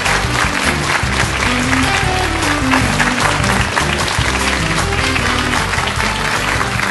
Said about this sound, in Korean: 보이스 컨설턴트 김창욱 씨를 큰 박수로 맞으시기 바랍니다